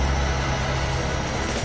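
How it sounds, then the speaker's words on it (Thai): A heavy Hino Victor 38 truck engine roars loudly and steadily nearby, a deep continuous rumble with no pauses. "นี่เสียงลั่นมาเลยนี่เป็นฮีโนวิกเตอร์38 นะครับ"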